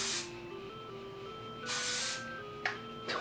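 Hairspray from an aerosol can sprayed onto hair for a teased 80s Beetlejuice-style look, in two long hissing bursts followed by two quick short spritzes, close and fairly loud over a quiet room.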